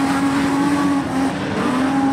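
Modified sedan race cars lapping Kingaroy Speedway, with engines droning loud and steady at speed, the pitch wavering slightly as the cars circulate.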